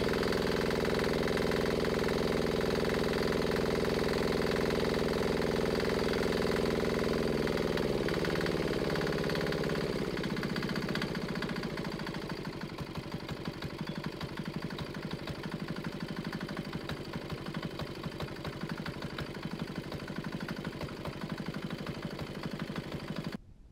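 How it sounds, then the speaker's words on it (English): Small 196cc Chinese single-cylinder diesel engine idling steadily on waste motor oil, a loud continuous knocking chug close up that shifts slightly in tone partway through and runs alone without talk. "Here we got one of these Chinese diesel engines running on waste motor oil."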